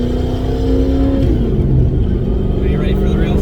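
Tuned car engine with an antilag system revving hard and short shifting, loud and close throughout, its pitch sweeping down with each shift, with people talking over it.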